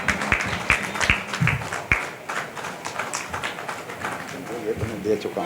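At a Lions Club ceremony, a crowd welcomes Ashok Pariyani with scattered clapping and sharp individual claps, under steady voices and hall chatter.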